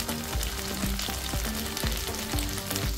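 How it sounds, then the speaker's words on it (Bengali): Chicken being tossed in sauce in a hot pan, chicken 65 style, sizzles steadily and loudly, with rhythmic clanks and scrapes of stirring throughout and no talking. "এবার আমরা পুরো ব্যাপারটা টস করে নেব সসের মধ্যে।"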